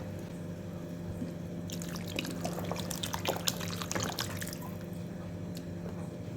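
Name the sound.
pouring water into cooking pot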